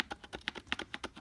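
Keystrokes on a Rii gaming keyboard, about a dozen distinct clicks in an uneven typing rhythm, close and moderately quiet, with no voices.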